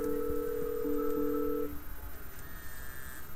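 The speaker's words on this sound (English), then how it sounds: "So it's gonna ring my cell phone." Lync USB presence indicator built on a FEZ Panda board dialing out to a cell phone, a steady pair of tones followed by short dial beeps and a thin ringing tone, all at close range over faint hiss.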